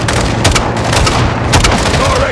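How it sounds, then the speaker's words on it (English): A rocket launcher explosion in Call of Duty Modern Warfare II: a loud, dense, rumbling blast that fills the whole moment amid ongoing battle noise. "Guys, hit him with the launcher."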